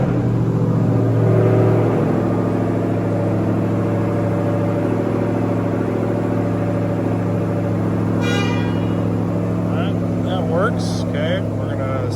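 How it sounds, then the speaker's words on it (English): A truck engine turns over and settles into a steady, loud idle that rumbles continuously close by, with a brief higher whine and faint clicks toward the end. "We're gonna start the truck."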